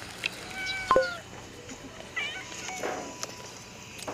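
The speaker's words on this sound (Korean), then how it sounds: "고양이 영상이요." A cat gives a few short meows at moderate distance, with quiet gaps between them, over a faint background hum.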